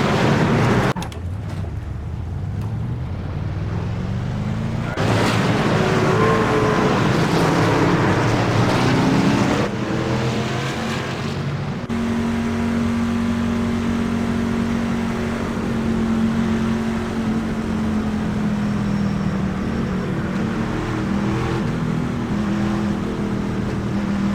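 Simulated NASCAR Ford F-150 truck racing at Darlington Raceway in iRacing, its engine droning loud and steady throughout, shifting pitch as it revs up and settles.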